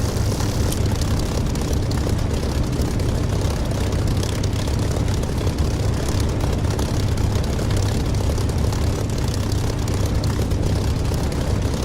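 An aircraft in the DCS flight simulator game running up for takeoff, a steady loud engine drone with a deep rumble that holds unbroken throughout, no talk.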